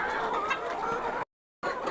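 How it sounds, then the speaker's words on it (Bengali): Domestic chickens eat poured feed from a pan, clucking in a busy, overlapping stream up close, with a short silent gap before the clucking resumes. "যখন আমি প্রথম খাবার দিলাম তখন খেয়াল করেছি সব মুরগিগুলো খাবার খাচ্ছে কিনা"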